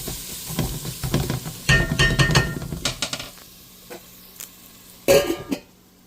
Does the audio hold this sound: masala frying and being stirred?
yes